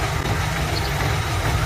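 An engine runs steadily at close range, a loud, even low rumble with no pauses, alone without voices.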